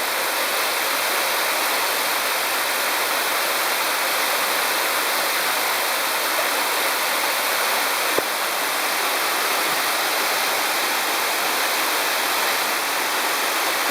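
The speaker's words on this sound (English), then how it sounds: "And then here's the waterfall." Amarun Falls, a waterfall in Ecuador's Amazon region, roars with a loud, constant broadband rush of falling water.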